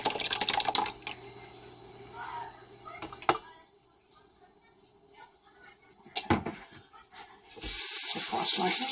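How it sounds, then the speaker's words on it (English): Tap water runs into a kitchen sink as hands are washed while cooking white kidney beans, a splashing flow that comes and goes in bursts, loudest at the start and end, with brief talk in between. "Just wash my hands again here."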